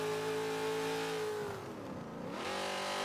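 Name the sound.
1971 AMC Javelin AMX engine revving in Forza 7 video game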